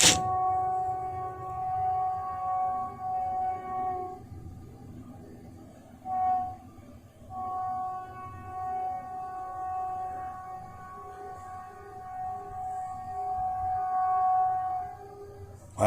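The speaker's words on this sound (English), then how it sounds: "any locomotive enthusiasts know what locomotive that is by the horn?" An old freight train locomotive horn sounds long and steady from a distance, holding a sustained chord with a short break midway, faint over a low rumbling background.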